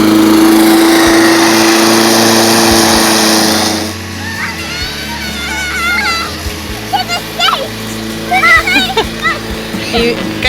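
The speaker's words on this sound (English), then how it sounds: "You guys running away from the lawnmower monster?" A lawn mower runs outdoors near a family yard, its steady engine drone loud for the first few seconds and then lower and farther off, while children and an adult talk over it.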